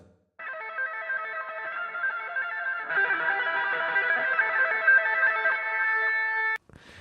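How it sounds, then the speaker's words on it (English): A sustained, buzzing distorted guitar tone with a ringing, resonant filtered edge, growing fuller midway and then stopping abruptly. "here's what it sounds like with the resonant filter"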